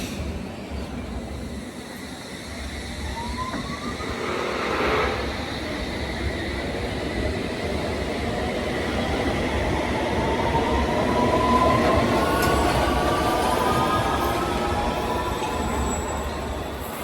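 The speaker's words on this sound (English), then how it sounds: "There's Hammersmith bound Circle Line train pulling away there." A London Underground Circle Line train bound for Hammersmith pulls away from a station platform, its rumbling motor and rising whine building steadily and staying fairly close for the whole stretch.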